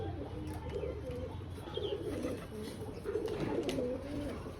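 Homing pigeons cooing as they land back at their loft, soft repeated low coos over a quiet outdoor background, fairly faint and close by, with no speech.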